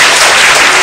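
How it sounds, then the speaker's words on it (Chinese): Sustained applause from a school audience thanking guests at a school event, a dense, steady wash of many hands clapping at once, loud and close throughout. "我们给我们来宾鼓掌一下"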